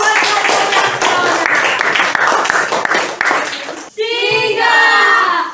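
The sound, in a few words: applause for a student in class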